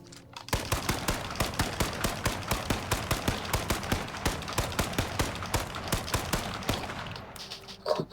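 Rapid automatic gunfire from the battle royale game H1Z1, a steady run of about twenty evenly spaced shots close and loud, stopping near the end.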